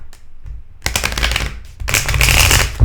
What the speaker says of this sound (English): Or I want to do one more shuffle.